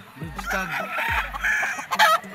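Close crowing from a straight-combed SBR bloodline battle stag, a gamecock on a Filipino gamefarm, with harmonic crows and short clucks, and a brief voice in the background.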